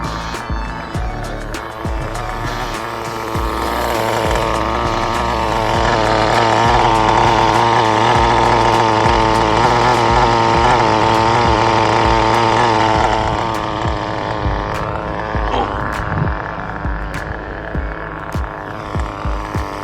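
A carbon fiber Nitro RS4 2 nitro RC car engine running rich while warming up, a loud, buzzy high-revving whine that holds steady, swells in the middle and drops back toward the end, close by with no talk.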